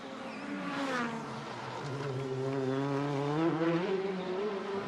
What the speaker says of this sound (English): See the car. You can hear it as well, can't you?